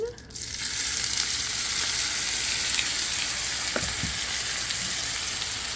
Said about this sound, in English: I'm going to put the potatoes into the pan.